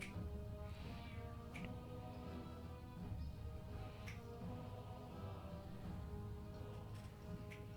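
A cat meows amid steady background noise, with a few short calls rising clearly over the constant hum.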